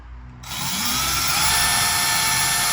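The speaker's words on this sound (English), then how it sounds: "Got my little pilot holes made, and I'm just going to drill down to it." A power drill spins up after a short quiet start and runs steadily and loudly, driving down through pre-drilled pilot holes to meet a post, with a constant high whine throughout.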